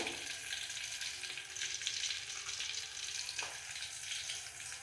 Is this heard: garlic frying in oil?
yes